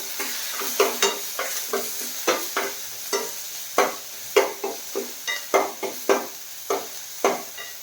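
Finely chopped small onions fry with asafoetida in a pan, a soft steady sizzle broken by a quick irregular run of sharp scraping stirs from a spoon against the pan, close and clear without speech.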